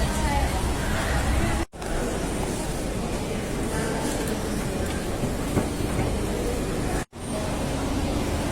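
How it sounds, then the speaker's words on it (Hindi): Metro train at an underground metro station, a steady rumbling roar with crowd babble and voices around it, interrupted by two brief dropouts. "मित्रों यहाँ आ गए अब मेट्रो स्टेशन पर और यहाँ से पहली मेट्रो पकड़कर"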